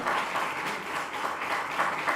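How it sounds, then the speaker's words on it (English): Audience at a pitch event clapping in welcome for a guest, a continuous wash of applause that is fairly soft and distant, with no talking. "Please, a round of applause for him."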